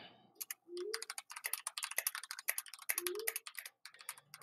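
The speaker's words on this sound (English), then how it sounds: "Who is clapping away at the keyboard?" Rapid clacking of a computer keyboard, bursts of keystrokes in an irregular rhythm, close by with a couple of low vocal sounds between.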